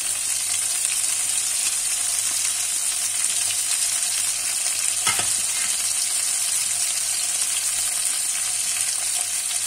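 Cooked potatoes, broccoli and cauliflower sizzle in a hot pan, a dense, steady hiss of frying that holds unchanged throughout, with one brief knock near the middle and no talk.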